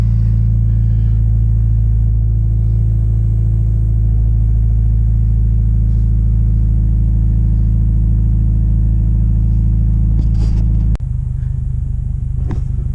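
Warm car engine idling with a strong, steady low rumble close by, then a quick blip of the throttle near the end that shifts the tone, with no talking.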